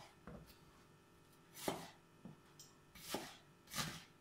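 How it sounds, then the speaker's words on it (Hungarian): A kitchen food processor chopping vegetables in short separate bursts, five or six quick whirring pulses with quiet gaps between, close and fairly soft. "Egységesen fogja az aprító darálni."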